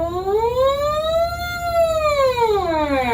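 A buzzing brass mouthpiece glides up and then down in pitch, giving a wailing, siren-like tone, loud and alone.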